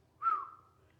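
A person whistles one short, rising-then-falling note imitating a thrush's call, fairly clear and close against a quiet background.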